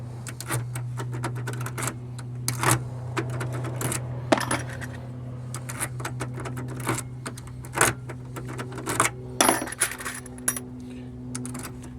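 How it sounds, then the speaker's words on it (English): Metal tryout keys clicking and scraping in a car door lock, a rapid series of sharp clinks and rattles over a steady low hum, close and fairly loud, with no talk. "we're going to use the tryout keys on the door and see if we can find one that'll fit this lock"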